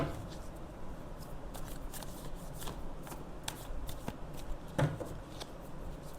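Tarot cards shuffled by hand close up, a quick run of riffling and sliding card flutters with soft snaps, no talk.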